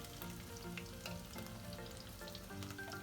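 Shallots, ginger, garlic, green chilli and curry leaves sautéing in hot oil for a Kottayam-style fish curry, a steady close sizzle with light crackles throughout and no voices.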